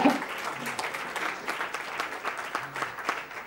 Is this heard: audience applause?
yes